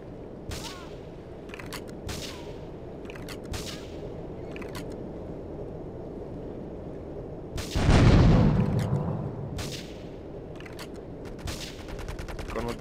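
Sniper rifle fire in Grand Theft Auto III: scattered sharp cracks spaced across the stretch, with one heavier burst and rumble near the middle, over a low steady game background.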